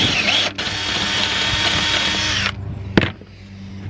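A power drill bores holes for M6 bolts in a solar panel bracket aboard a narrowboat, whining loudly and steadily for a few seconds with a brief break, then cutting off, followed by a short clack.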